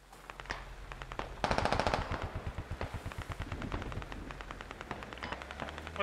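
.50 caliber machine gun fire in a military video game rattles out in a long steady rapid stream of bursts, at a moderate distance and fairly loud, with a brief louder flurry early on.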